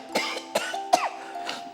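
Several harsh, bad coughs from a person in a house, spaced irregularly across a short stretch, fairly close and unaccompanied by talk.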